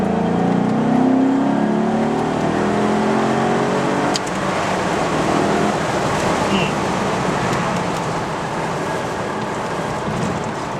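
Maserati Cambiocorsa Spyder engine revs under way on a test drive around Murrieta, California, with a rising drone that then drops to a dense, steady roar mixed with road and wind noise, loud and close throughout.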